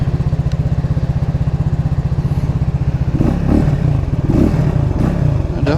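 A Cougar Vitacci XMT 250 motorcycle's counterbalanced single-cylinder engine idles with a steady, even thrum close by, then gets a few blips of throttle that make it rougher and louder before settling again.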